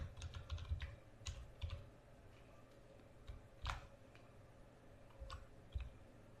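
Keys on a computer keyboard tap out irregular bursts of quiet clicks while someone types a document in Microsoft Word, close up with a low background hum and no talking.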